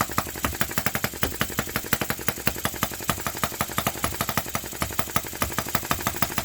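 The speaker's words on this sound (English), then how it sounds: "So that's running lean now, and the throttle's on full." A vintage Japanese Yanmar model gasoline engine runs lean at full throttle, firing in a fast, steady, close-up chugging rhythm with no talk.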